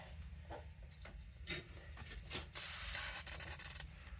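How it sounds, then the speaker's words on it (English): Brake cleaner sprayed from an aerosol can onto a Ryobi weed eater during fuel line repair, a close hissing burst that is sustained for over a second near the end, preceded by a few short sprays and clicks. "Use a little bit of brake clean and just wipe that neck off."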